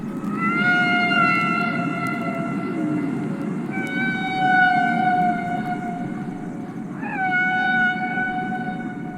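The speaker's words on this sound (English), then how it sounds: "I think these are humpback whales." Recorded humpback whale song: long, wavering tonal moans and rising whoops sustained over a broad underwater hiss, several drawn-out calls following one another with no one talking.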